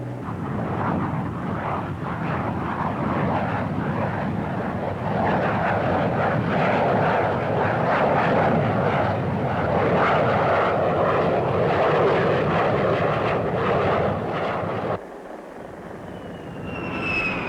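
An F-4B jet on a straight-in approach roars loudly and steadily as it comes in to land on a runway, then the engine noise drops abruptly near the end.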